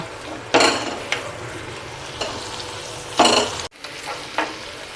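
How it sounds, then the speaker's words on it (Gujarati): Carrot, beetroot, tomato and onion frying in oil are pressed with a masher in a pan for street-style tava bhaji, giving a steady sizzle broken by a few loud scraping mash strokes, with no talk. "તો આ બધી જ વસ્તુને આપણે પહેલાં સારી રીતે તેલમાં સાતળીએ અને મેસ કરી લેશું મેસરની મદદથી આપણે આ રીતે બધું જ પહેલાં મેસ કરી લેશું"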